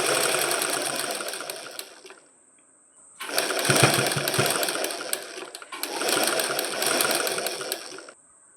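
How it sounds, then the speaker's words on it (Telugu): Sewing machine stitching along the edge of a cloth frill for a petticoat, three steady runs of loud, close motor whirr with a short pause between each and no talking. "ఇప్పుడు ఇలా ఈ చివరన ఎడ్జ్ను కుట్టుకుంటూ వెళ్ళాలి"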